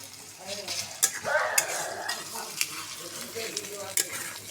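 Onions fry in a pan with ginger, garlic and cumin paste, giving a steady close sizzle broken by scraping stirs of a spoon.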